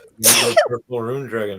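A single sharp sneeze bursts out loud and close, followed right after by a person speaking.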